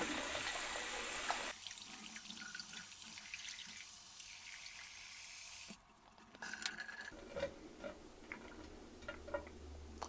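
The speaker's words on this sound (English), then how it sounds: "Push the little diverter button, make sure that you're able to rinse everything out." A handheld shower head rinsing with a steady, close rush of running water that spatters into a basin, briefly quieting and shifting in tone midway before splashing and dripping resume toward the end.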